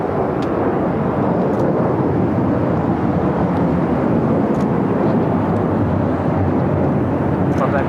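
Airliner taking off on runway 25 right at LAX, a loud, steady broadband engine roar that holds throughout, with faint radio chatter audible over it.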